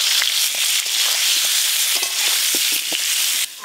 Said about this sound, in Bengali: খিচুড়িটা আগে আমি তৈরি করব, তার জন্য আলুগুলো ভেজে নেব।